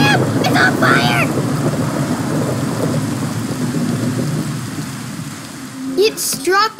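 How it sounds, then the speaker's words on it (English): Steady rain and a rumbling lightning strike in a video game, a loud continuous wash that fades slightly before a brief burst near the end, with excited voices talking over it. "It struck it on fire, dude! Oh, Liam, look at that! Lightning!"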